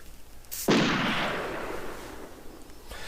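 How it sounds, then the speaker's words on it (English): A single sharp, hissing spray burst from a Green Irish Tweed perfume atomizer that starts abruptly and fades gradually over a couple of seconds in a quiet room. "So let's spray Green Irish Tweed."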